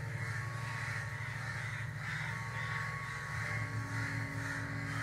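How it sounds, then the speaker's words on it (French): Crows caw repeatedly at dawn in a park, with rough calls that overlap over a steady low background hum and no voices. "vous percevez les sons des oiseaux qui s'éveillent, leurs chants, les bruits de leurs ailes contre le feuillage"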